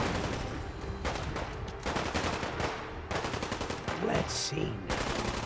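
Gunfire rattles through a Fallout 4 battle with Sim Settlements 2, coming as dense automatic bursts in several long stretches separated by short gaps, fairly close, with someone briefly talking over it.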